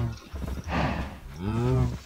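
A cow in Minecraft lets out a low, drawn-out moo, close and moderately loud, followed by a second harmonic bellow, with someone talking around it.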